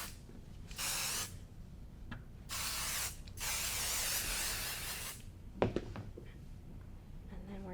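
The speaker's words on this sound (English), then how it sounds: "We're going to get our spray out." Several bursts of aerosol basting adhesive sprayed onto quilt fabric, each hissing for about a second, separated by short pauses, followed by faint handling clicks and rustles.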